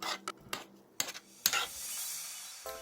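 Spicy pork salad being tossed with spices in a bowl, heard as a few quick scraping and clinking strokes in uneven bursts, close and fairly crisp, followed by a softer lingering rub.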